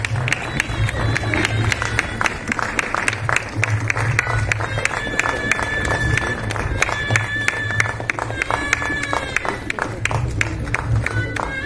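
A hall audience gives sustained, loud applause at a lifetime achievement award ceremony, with dense rapid clapping throughout, a tonal sound running underneath and some crowd noise mixed in.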